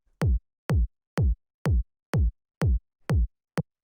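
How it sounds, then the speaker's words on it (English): Hard-hitting, punchy 909-style kick drum for dub techno at 125 BPM, struck eight times in a steady four-on-the-floor pulse, each hit a loud, deep thump with a short decaying tail, played alone. "First sound we have here is the kick, which sounds like this."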